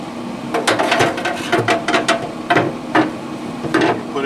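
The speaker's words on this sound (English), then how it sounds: "Got these little rack here. Got this rack put in there." A metal cooking rack being set into a Pit Boss Lexington pellet grill, with a series of sharp clanks and rattles of metal against metal, close and fairly loud.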